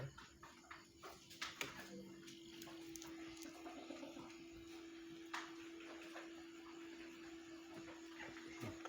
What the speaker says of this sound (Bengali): আমাদের ইনকুবেটার চালু দিয়েছি